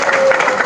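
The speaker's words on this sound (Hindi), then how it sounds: "अरे यार ताली अकेले बजा दोगे यार" Brief burst of dense audience applause at a training seminar, many hands clapping steadily and fairly loud throughout.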